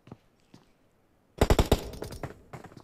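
Gunfire in PUBG on the Sanhok map during a squad scrim match: a couple of faint distant shots, then a loud rapid automatic burst followed by scattered trailing shots.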